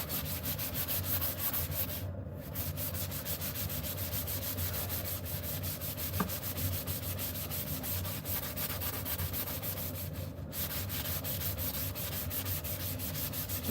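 A wooden back scratcher being sanded by hand with 240 grit sandpaper, a continuous even scratchy rubbing that runs almost unbroken, close and moderately quiet with no voices.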